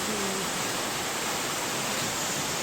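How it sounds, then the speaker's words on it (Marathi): A waterfall near a village sends out a steady, dense hiss of flowing water, close and even throughout, with no talking. "आमच्या गावाच्या जवळ छान धबधबा आहे. मस्त पाणी वाहतं."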